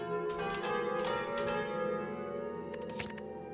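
The Calling Bell relic in Slay the Spire rings out as a single resonant, church-like bell toll with a long sustained ring. A few soft clicks follow as it fades.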